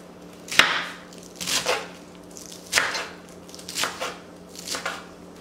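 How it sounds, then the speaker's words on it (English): A knife chops salad vegetables on a cutting board in a series of separate, close strikes, a sharp first cut followed by several softer, uneven slices, with no talking. "I'm just gonna go ahead and wash these ingredients, chop them up"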